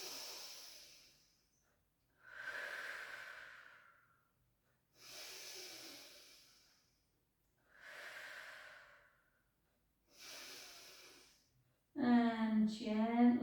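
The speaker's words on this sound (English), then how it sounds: "Take a big breath in." Slow deep breaths during a stretching session for the shoulders, hips, lower back and neck, five long airy inhale-exhale swells with pauses between, close and soft, followed by a voice speaking at the end.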